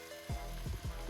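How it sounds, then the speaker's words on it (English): Potatoes sizzle hard in a hot frying pan with a steady loud crackle. A few quick stirring scrapes cut through the sizzle. "our potatoes have been frying up, or rather sizzling"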